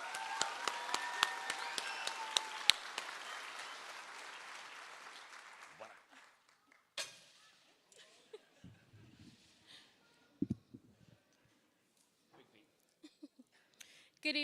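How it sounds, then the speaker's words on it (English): Loud, dense audience applause at a graduation and pinning ceremony fills the first six seconds, then fades into scattered claps and a few isolated knocks in a quieter room. "Let's give a good round of applause to Ms. Liliana Toro Gonzalez."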